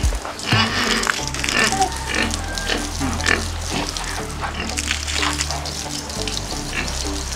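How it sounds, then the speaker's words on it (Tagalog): Pig at bath time on a Filipino backyard farm, running water and splashing filling the scene with grunts mixed in, loud and continuous throughout. "Pag oras ng liguan, nagtatago lagi itong baboy na to."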